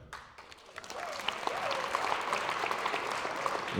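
A stand-up comedy crowd in Tallinn applauds in answer to the comedian's question, the clapping swelling from quiet to a full, steady round, with scattered whoops and voices mixed in.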